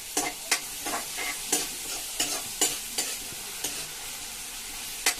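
Onions sizzle and fry in a pan while a spoon stirs them in steady, repeated scrapes, a constant crackle with regular stirring strokes over the top and no voices.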